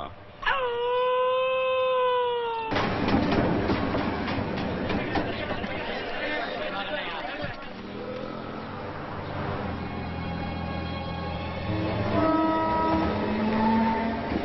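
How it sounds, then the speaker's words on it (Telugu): A train pulls in, opening with a long, loud horn blast before giving way to a continuous rumble and clatter of rail cars. A second horn sounds near the end, and voices murmur underneath. "రైలు వచ్చే టైం అయింది"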